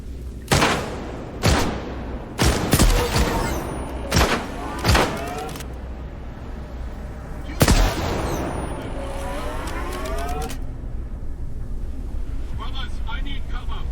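Gunfire in the shooter game Stalker 2 inside an underground military facility: a string of loud, sharp shots at irregular intervals, with ringing echoes and a final heavy burst, then steady ambient hiss.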